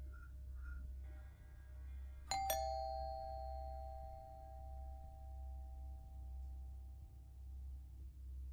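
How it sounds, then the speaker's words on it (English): A doorbell chimes indoors as two clear electronic tones struck in quick succession, the second note ringing out and slowly fading over several seconds in an otherwise quiet house with a low background hum. "So did he break in or is he ringing the doorbell?"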